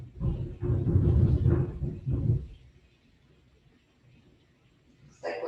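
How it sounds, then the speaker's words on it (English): Thunder from an approaching thunderstorm rolls in as a low, deep rumble for a couple of seconds, moderately loud and distant, then fades into quiet room ambience before a brief sharper noise at the end. "It's like we're getting a thunderstorm now, so if you hear rumbling and grumbling"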